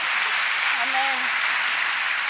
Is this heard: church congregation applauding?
yes